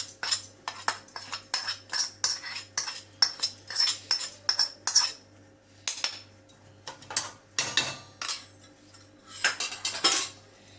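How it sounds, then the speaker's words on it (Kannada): Metal utensils clink and tap against a vessel while tempering is added to urad dal raita. The sharp, close knocks come in quick irregular bursts with brief pauses and no talk. "ಈ ಒಗ್ಗರಣೆನ ಸೇರಿಸ್ಬಿಡೋಣ."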